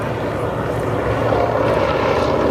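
Junkers Ju 52 tri-motor transport airplane flying at the Oshkosh airshow, its propeller engines giving a steady, loud droning roar that holds throughout with no talk.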